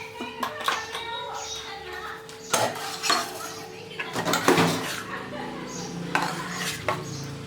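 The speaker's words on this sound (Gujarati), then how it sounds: "અને હલાવી લઈએ." A spoon stirs moong dal batter for pudla in a bowl, giving repeated irregular clinks and scrapes against the dish, fairly close and clear with short pauses between strokes.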